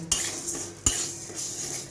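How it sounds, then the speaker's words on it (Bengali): Whole urad dal is lightly fried in a pan and stirred with a metal utensil, making two sharp scraping clinks and softer scrapes over a faint, quiet sizzle. "ডালটাকে আমি একটু হালকা করে ভেজে নেব"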